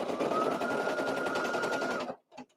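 A home embroidery machine stitches a denim zipper pouch held in the hoop, a loud, steady whirring hum of rapid needle strokes that cuts off abruptly near the end, followed by a brief faint mechanical sound.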